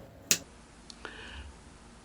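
A single sharp finger snap near the start, followed by a couple of faint clicks and a short tone in a quiet room.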